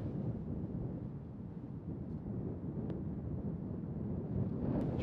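Steady headwind rushing across a links golf course at Princes, a continuous low buffeting roar on the microphone for the whole stretch, with no talk.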